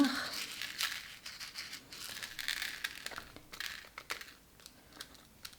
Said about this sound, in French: Peut-être qu'on va essayer en mettant quelques sequins, puis en secouant